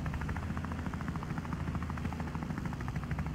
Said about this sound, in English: jump into the police helicopter